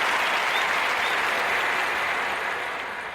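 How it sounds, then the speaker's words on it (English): Thick, continuous applause that stays strong and eases off slightly toward the end, with no talk over it. "Round of applause for hip hop is dead"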